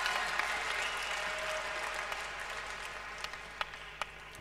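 A tennis crowd at a 1992 Brussels final between Becker and Courier gives sustained applause after Becker's serve, a dense even roar of clapping at moderate distance with a few sharper individual claps near the end.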